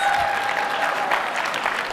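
Steady applause from an audience at a live blogger conference event, dense clapping throughout with faint crowd murmur, no clear speech.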